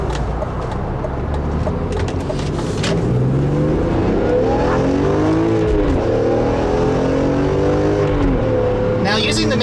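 Straight-six engine of a 2002 BMW M3 with SMG gearbox pulls hard from inside the car, pitch climbing through the revs and dropping at a shift before rising again. Someone talks over the engine most of the time.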